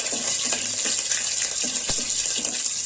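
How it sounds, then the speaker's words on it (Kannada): Crushed onion fries in a pan for buttermilk saru, giving a steady, close sizzling hiss with occasional small pops and crackles and no talking. "ಜಜ್ಜಿರೋ ಈರುಳ್ಳಿ, ಹಾಕಿ ಫ್ರೈ ಮಾಡಬೇಕು"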